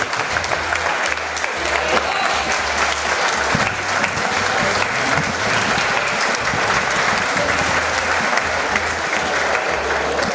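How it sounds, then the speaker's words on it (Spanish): A hall full of people at a patron saint celebration for the elderly applauds steadily and loudly, a dense sustained wash of clapping from a large crowd for about ten seconds. "Un aplauso para él."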